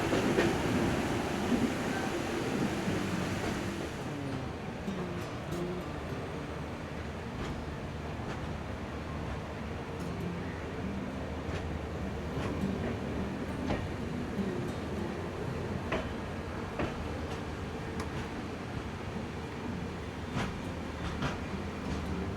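The 18047 Amravati Express rumbles steadily along the track toward Goa near Dudhsagar, with continuous wheel and carriage noise and faint clicks throughout, heard from inside the train with no talking.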